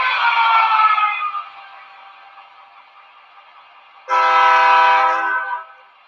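Horn on a model diesel locomotive from a layout, two loud chord-like blasts, the first about a second long fading into a lingering tone and the second starting around four seconds in, each close and clear.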